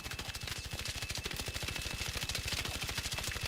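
Rapid automatic gunfire from a weapon fitted with a compensator in the video game Arc Raiders, a fast, even burst of close, loud shots running unbroken throughout.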